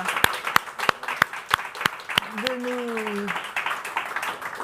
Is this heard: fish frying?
no